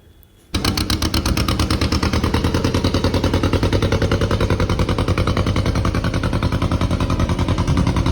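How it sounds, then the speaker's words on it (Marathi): A small boat's engine chugs steadily at the Arnala Fort jetty, a loud, close, rhythmic diesel putter that starts abruptly and holds an even beat throughout, with no talk. "इथे एक बोट आलेली आहे, आता 10 मिनटं झाली आम्हाला इथे थांबून आणि इथे ही बोट आलेली आहे।"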